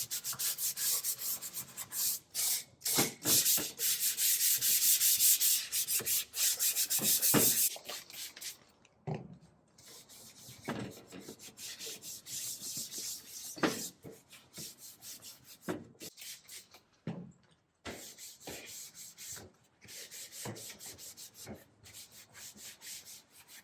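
A store-bought Ikea Hemnes wooden furniture piece is hand-sanded before chalk painting, with close, loud rhythmic rubbing strokes that start and stop in bursts, alone with no talk.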